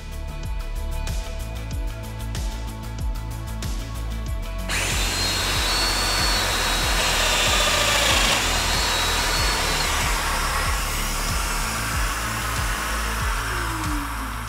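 A Festool Domino DF 500 joiner cuts a mortise for a mitre joint in timber, starting with a low clicking motor hum before a sharp, loud whine of the cut that runs nearly ten seconds, close and unaccompanied by speech.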